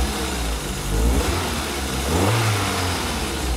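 Car engine revving hard after a fuel injector cleaning, a steady mid-pitched drone that swells and climbs in pitch partway through and stays loud and close, with no talk over it.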